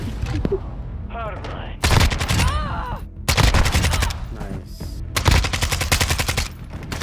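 Automatic gunfire in a Call of Duty Search and Destroy match: several loud, rapid bursts of shots come in clusters, with short pauses and brief voices between them.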